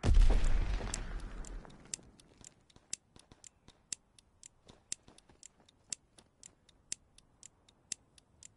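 A planted bomb in a video game ticks steadily after a loud opening rumble, the sharp regular beeps continuing at an even pace and gradually quickening against near silence.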